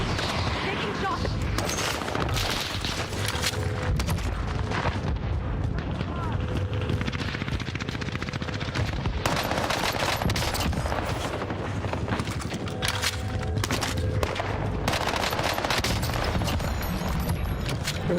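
Dense, continuous gunfire from the Call of Duty Warzone battle royale game, with rapid automatic bursts and heavy booming shots stacked loudly throughout and game voices calling out over the din.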